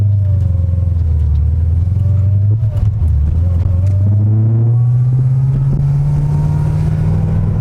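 Loud, close engine drone from an 850 hp Corvette ZR1 on the road, its pitch climbing steadily as it accelerates, with wind rumble against the microphone.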